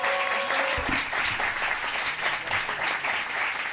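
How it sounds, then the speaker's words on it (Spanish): Audience applause and cheering in a lively studio setting, a steady dense wash of clapping that holds for several seconds without a break. "Un aplauso a Mili también."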